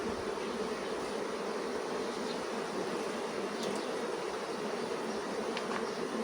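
Honeybees swarm around an open hive during frame work, a steady dense buzzing drone that holds evenly throughout with no voices, close and continuous.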